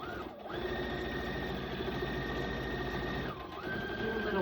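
A sewing machine stitches fabric in a steady, continuous mechanical hum with fine rapid ticking, briefly pausing and shifting pitch before resuming, close and alone.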